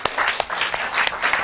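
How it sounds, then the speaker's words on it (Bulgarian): A studio audience on a Bulgarian talk show claps to welcome guest Zvezdomira Chaparova, a short burst of moderately loud applause with a few distinct sharp claps. "Моля за вашите аплодисменти за Звездомира Чапарова."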